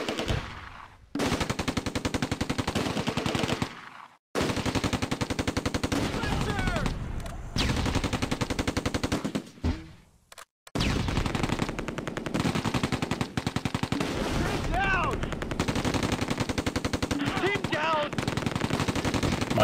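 Machine gun fire in the wargame Close Combat A Bridge Too Far, Groesbeek landing zone during Operation Market Garden: sustained, dense bursts of automatic fire with brief pauses, loud and continuous over most of the stretch.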